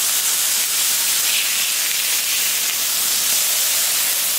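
Smash burgers sear on a Camp Chef flat top grill, a loud, continuous hiss of hot fat that stays even throughout, with no talking.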